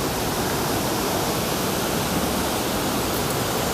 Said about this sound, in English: Here you can see waterfalls.